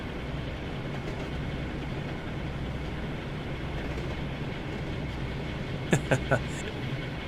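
Class 52 diesel locomotive in the Train Sim World 6 game, with a steady low engine drone and rolling rail noise throughout, then a few short bright squealing or clanking bursts near the end.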